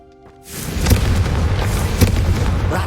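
Confringo fire spell cast in the Hogwarts Legacy video game: a sudden fiery whoosh erupts after a brief quiet start, followed by a sustained roaring burn with two sharper booming bursts, loud and close.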